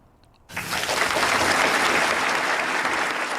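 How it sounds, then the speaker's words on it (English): After a brief quiet moment, a crowd bursts into sustained applause, dense and steady clapping filling the room until the end. "They do eventually clap."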